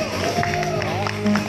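Audience applause and cheering ring out for a contestant at a Vietnamese-American businesswoman beauty pageant in the US, a steady crowd wash blended with background music and a voice.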